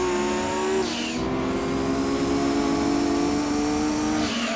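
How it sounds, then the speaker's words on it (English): Exaggerated turbo engine sounds from the racing video game Gran Turismo 2, a sustained whining engine drone with a sharp shifting hiss near the start and again at the end, loud and steady without talk. "the best thing about GT2 is the over-exaggerated turbo sounds"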